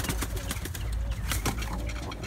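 Pigeons fed on a whole corn diet coo and flap in a loft, a steady busy flurry of wingbeats and low calls close by, with no talking.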